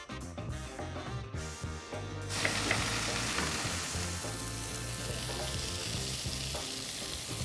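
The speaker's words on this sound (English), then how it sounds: "While the mushroom and onions are cooking here" Mushrooms and onions fry in a pan with juices and fat left from a beef eye fillet. A dense, loud sizzle builds after about two seconds and then crackles on steadily, with no talking.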